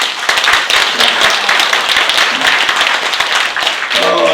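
An audience at a Korean political speech breaks into loud, dense applause that carries on evenly throughout, with a voice faintly rising again at the very end.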